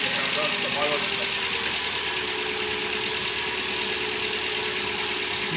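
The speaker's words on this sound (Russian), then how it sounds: "Работает, греется, реально с первого раза завелся." A Hyundai ix35 G4NA engine runs steadily just after a repair, a continuous broadband idle with a faint knocking texture, close and fairly loud, and a voice is heard briefly over it near the start.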